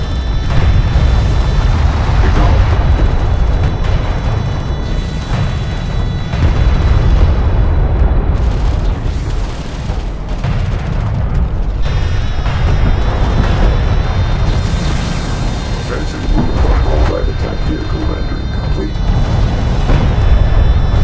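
Exploding strike craft in the Homeworld: Deserts of Kharak real-time strategy battle, with heavy continuous booms and rumbling blasts layered over dense combat noise, loud throughout with brief unit voice callouts.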